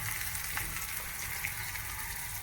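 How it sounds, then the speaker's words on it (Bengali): Onions fry in a pan for a spicy fish dish in a home kitchen, giving a soft, steady sizzle that runs evenly through the whole moment without any talking. "রান্না করছে পেঁয়াজ ভাজা"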